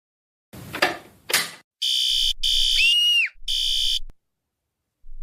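Fire alarm sound effect played from a baby's mobile: three loud, electronic high-pitched tone bursts with a warbling sweep between them, preceded by a couple of short rustling knocks.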